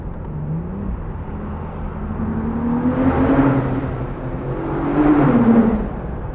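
A 2024 Ford Bronco Raptor's twin-turbo V6 revs up twice under a bridge with a rising growl, the exhaust note swelling loudly and echoing, then easing off between pulls.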